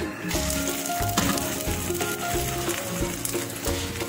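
Ghee sizzles steadily on a preheated tawa griddle, a close, continuous frying crackle with some clinking of utensils and no talking.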